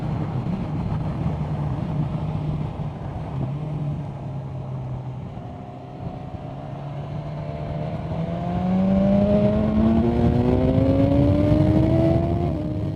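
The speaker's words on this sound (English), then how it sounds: "I think I'll give the bike one nice twist of the wrist coming off this next roundabout." A BMW S1000R motorbike accelerates out of a roundabout. The steady close engine note climbs sharply in pitch and loudness as the throttle opens in the second half.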